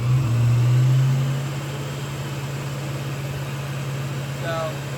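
A car engine idling after its IAC (idle air control) was adjusted, with a Tork Tech upgrade fitted: a steady low rumble, louder at first and then settling to an even idle.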